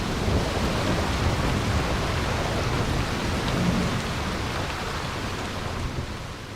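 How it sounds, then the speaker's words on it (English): Heavy rain pours steadily through a thunderstorm over the Namib desert, a dense, loud, unbroken hiss of falling water and wind with a low rumble underneath, no voices. "The stormy wind lashes against the trees, and heavy rain pelts down."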